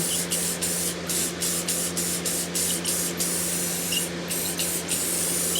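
Aluminum-colored metallic bright-coat spray paint hisses from an aerosol can in a string of short, even bursts close by, with brief pauses between sprays over a faint background hum.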